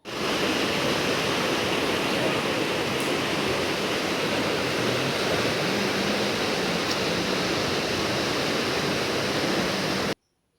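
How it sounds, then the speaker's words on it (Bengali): Heavy monsoon rain and flowing floodwater around ponds and a river make a loud, unbroken roaring rush like a waterfall, steady for about ten seconds before cutting off abruptly. "দেখো টানা বৃষ্টির জোরে কি অবস্থা, কদিন ধরে একদম পুকুর নদী সব যেন একদম জলে থই থই করছে।"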